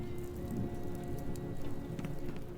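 Steady rainfall in the video game Sherlock Holmes The Awakened, a soft continuous patter of drops over a low ambient drone, faint and distant with occasional brighter splashes.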